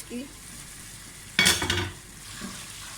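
Onions frying in oil in a home kitchen pot, with a low steady hiss that swells into a loud, crackling sizzle burst around the middle before settling back to a quiet simmer.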